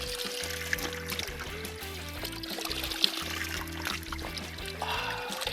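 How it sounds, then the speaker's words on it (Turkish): Ice-cold water pouring out of a water bag in a highland setting, a continuous close trickle and splash with a steady low hum running underneath. "Bütün suyumu dökeceğim."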